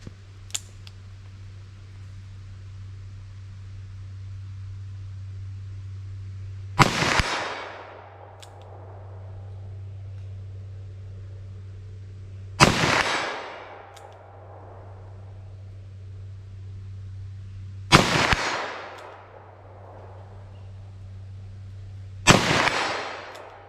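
Four loud gunshots from a .327 Federal Magnum revolver fired outdoors, evenly spaced about five seconds apart, each a sharp close crack with a ringing decay, over a low steady background hum.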